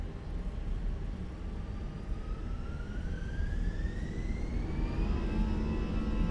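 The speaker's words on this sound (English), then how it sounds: "Sounds actually really nice, the plane." Airbus A320 engines in Microsoft Flight Simulator 2020 give a steady, dense roar with a rising whine that climbs gradually as thrust builds, loud and constant with no talk.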